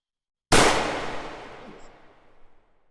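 A single loud, close gunshot from a firearm in the VR shooter H3VR, a sharp crack after brief silence followed by a long decaying echo.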